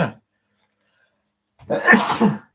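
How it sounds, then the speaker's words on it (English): After a brief sound and a long silence, one loud, close sneeze bursts out. "is he sneezing?"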